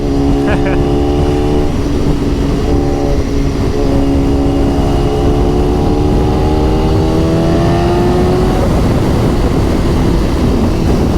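BMW S1000RR motorcycle ridden hard with quickshifter gear changes, a loud, close engine whine climbing in pitch and dropping briefly at each shift, under heavy wind noise.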